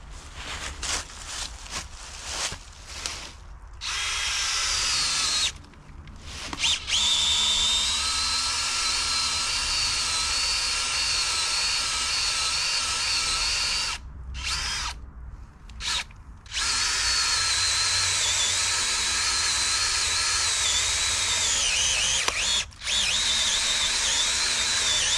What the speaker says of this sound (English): we need to tap the tree, like physically drill into it